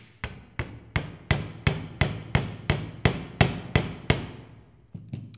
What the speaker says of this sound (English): just that bit of hammering is going to make it tough